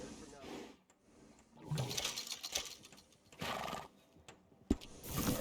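A horse whinnies and stamps in Red Dead Redemption 2, with bursts of neighing and hoof sounds scattered between quieter gaps, mixed with game dialogue and other ambient effects.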